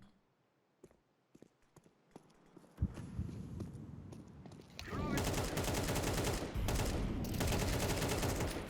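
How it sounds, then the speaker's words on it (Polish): Gunfire from players shooting in the video game Counter-Strike 2: faint scattered clicks, then a loud burst near three seconds and dense, continuous rapid shots filling the second half. "I zobaczcie, jak on strzela, a jak strzelają tamci, nie?"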